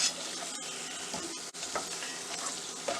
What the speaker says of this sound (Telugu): ఇంకా ఒక 1 మినిట్ ఇలా ఫ్రై చేసుకున్న తర్వాత